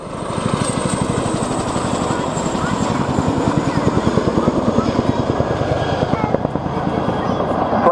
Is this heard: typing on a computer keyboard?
no